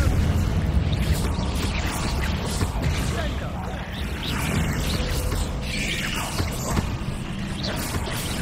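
A Confringo spell explodes in a video game, a dense, sustained rumbling blast with crackling bursts that stays loud throughout, and a voice is partly mixed in.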